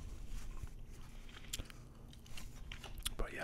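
Soft, close chewing of a stick of gum from an old pack of football cards, with moist, irregular mouth clicks and smacks continuing steadily through a quiet background.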